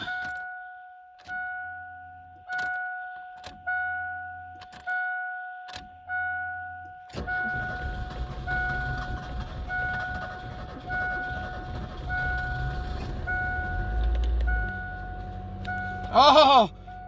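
A 1949 Cummins engine cranks in repeated rhythmic bursts alongside a steady warning chime, then catches and settles into a rough, uneven running rumble.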